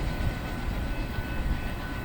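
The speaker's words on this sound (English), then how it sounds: "That was NSMO train 212 heading northbound through downtown Belmont, North Carolina." A Norfolk Southern double-stack freight train passes through downtown Belmont, North Carolina, heading northbound on the Charlotte main line, a steady loud rumble of rolling cars with no break.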